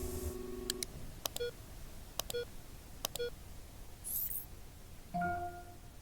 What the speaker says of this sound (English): That's weird that there'd be an N2 alarm.